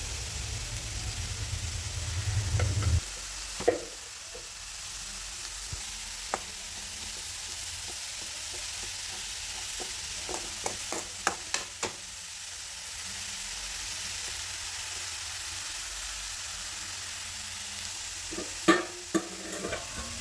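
Grated coconut is stirred into papaya thoran in a pan, with steady scraping and clinking of the spoon against the pan over a low sizzle, plus a few sharper knocks near the start and end; no talking.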